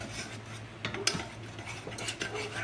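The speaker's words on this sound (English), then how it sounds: "and then we're gonna just stir it" A utensil stirs butter into hollandaise sauce in a pan, with soft scraping and rubbing strokes and a few sharp clinks against the pan, close up and quiet.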